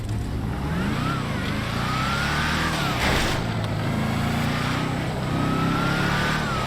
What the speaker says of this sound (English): this is one of the other cars in GTA 5 that has a really great whine